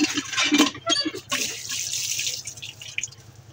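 Tap water runs and splashes while a large kitchen knife is washed, with irregular splashing, dripping and clinking close by, and a voice speaks briefly.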